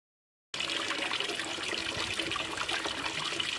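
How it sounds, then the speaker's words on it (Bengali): Water gushes steadily from a household tap, a continuous broadband splashing rush that starts abruptly after a short silence and holds at an even, close level throughout. "চলো দেখাই কলটা থেকে কিভাবে জলটা বেরিয়ে যায়"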